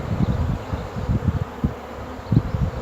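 Honeybees in an opened beehive, with a queen excluder being fitted, buzz close by in a low droning hum broken by short louder bursts as bees fly past, with no talk.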